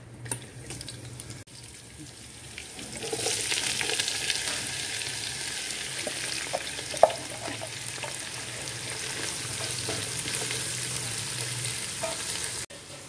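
Onions frying in a pan while preparing chicken kabsa, a steady broadband sizzle that swells louder after a few seconds and holds evenly, with a faint low hum beneath and no talking.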